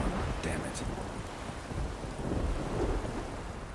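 Thunderstorm in a video game, heard as a continuous broad roar of rain and rumbling thunder that holds steady at moderate level with no distinct cracks.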